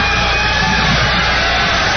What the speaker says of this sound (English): They're all applauding now because Billy has finally decided to leave the stage. That's what you're hearing here.